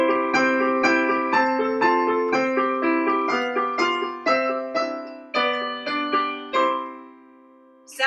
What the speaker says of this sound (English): So Twinkle Twinkle Little Star is actually a song in a major key.